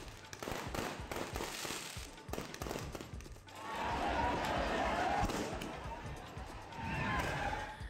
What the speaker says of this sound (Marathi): डॉक्टर बाबासाहेब आंबेडकर पुतळा परिसरात फटाक्यांची आतषबाजी करण्यात आली